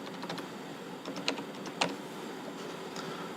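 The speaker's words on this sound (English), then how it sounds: "We have to type the patient name, input the date of birth" Scattered keystrokes on a computer keyboard as a patient name is typed in at a clinic's eye-scanning station: a few soft, irregular clicks, two slightly louder, over a steady low room hum.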